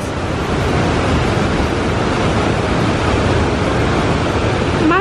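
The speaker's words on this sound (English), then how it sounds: "It's obviously the mist from the waterfall." Rushing water and drifting spray from a waterfall at Hellesylt on a Norwegian fjord make a dense, steady roar, loud and unbroken throughout, with no voices.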